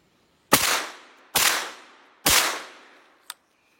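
Three sharp shotgun blasts from an Armsan 636 semi-automatic .410 firing reloaded shells, each a loud close crack with a decaying echo, spaced under a second apart, then a small metallic click.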